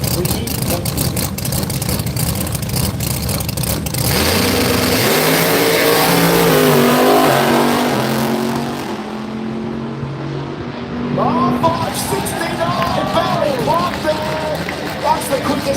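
A nitrous drag racing car, a 959, roars down the track at the Garrett Brisbane Jamboree in Willowbank, its engine loud and sustained before fading into distance, with an announcer talking over it.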